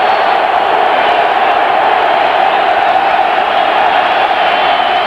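A stadium crowd of 74,000 on its feet at an NFL game between the Green Bay Packers and Tampa Bay Buccaneers, a loud, sustained roar of cheering filling the whole stretch with no letup.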